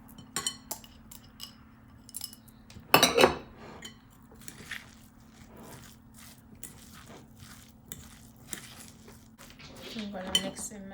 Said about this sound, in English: I'm gonna mix in my celery.